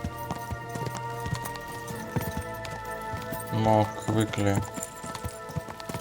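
Horse hooves clip-clop in a quick galloping rhythm in the game Kingdom Come: Deliverance II while someone talks over them, with game-like background sound.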